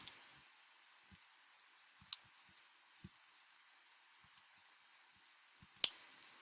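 Quiet scattered clicks of keys being pressed on a calculator to enter numbers, irregular taps with one sharper click near the end, faint and close in a silent room.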